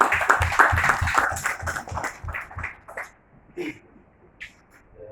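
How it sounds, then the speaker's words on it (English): Applause from the audience at the launch of Zimbabwe's e-cabinet system as an army brigadier general is invited to speak, a burst of clapping that is loud at first, then tapers to a few scattered claps. "applause for him"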